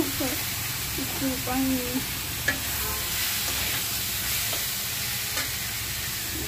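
Leafy greens stirred and frying in a pan, a steady hiss of sizzling with scraping stirs, while someone talks over it.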